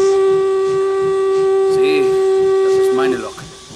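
A loud, sustained steam whistle blows close by with a rich harmonic tone, then cuts off into hissing steam and faint rumbling.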